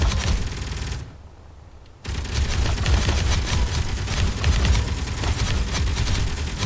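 Rapid turret gunfire in the video game Space Engineers rattles in a continuous dense stream, loud and close, pausing for about a second before resuming at full intensity.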